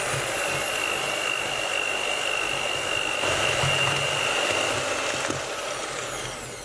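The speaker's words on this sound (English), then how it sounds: "just using a hand beater, we're just going to mix this all together" Electric hand beater whirs steadily and loudly, mixing chickpea flour cookie dough for Persian nan-e nokhodchi, a continuous motor drone with no pauses.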